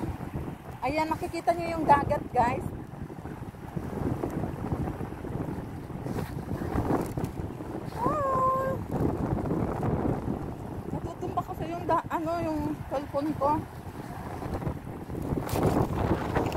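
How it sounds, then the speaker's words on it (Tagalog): Sea wind buffets a phone microphone on a Bahrain shore, a steady low rumbling roar throughout, with someone talking over it and faint wave wash underneath. "Ayan, hinangin ang aking cellphone."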